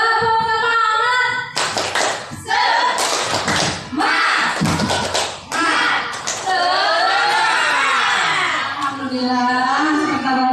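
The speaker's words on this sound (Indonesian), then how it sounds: "Ayo, tepuk semangat." Group of teachers performing the rhythmic 'tepuk semangat' clapping routine, sharp patterned bursts of unison claps alternating with chanted and sung voices, loud and close, with cheering at the end.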